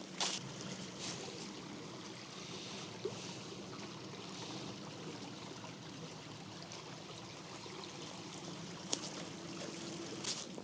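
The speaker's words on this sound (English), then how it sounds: "There's something about the sound of flowing water which is quite calming for me." A small stream beside a walking trail at an Iron Age settlement flows with a soft, steady trickle and gurgle, faint and continuous, with a few light clicks and no voices.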